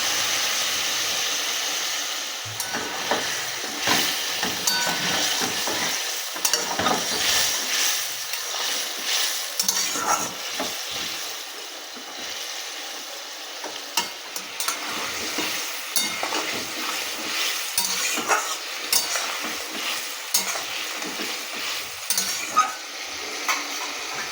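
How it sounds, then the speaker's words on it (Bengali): Fried okra and potatoes go into a simmering masala, with a long steady sizzle and frequent spatula scrapes and stirring knocks against the pan. "এবার আমি ভেজে রাখা ভেন্ডি আর আলুগুলো দিয়ে দেবো"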